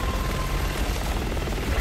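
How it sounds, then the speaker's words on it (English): Armored helicopter in Resident Evil 6, a loud continuous rotor drone and engine rumble that stays close and steady throughout. "that's an armored chopper they brought in"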